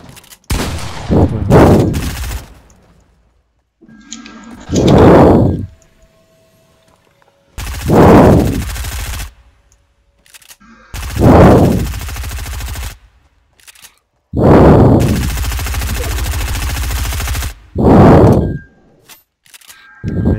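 SMG gunfire in Fortnite, loud bursts of rapid shots coming in several separate volleys with short pauses between them, close and dominant with no talk over it.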